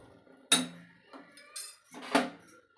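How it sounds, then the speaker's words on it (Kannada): Spoon stirring flour into boiling water in a pot on low flame, producing a few distinct metallic clanks and scrapes against the pot rim and sides, close and fairly loud, without speech. "ಒಂದು ಕೈಯಿಂದ ಹಾಕ್ತಾ ಒಂದು ಕೈಯಿಂದ ಈ ಥರ ಮಿಕ್ಸ್ ಮಾಡಬೇಕು ಸ್ಪೂನಿಂದ"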